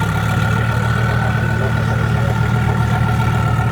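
A twin-turbo exotic car idles at a Cars & Coffee meet, a loud, steady low engine rumble holding evenly from start to finish.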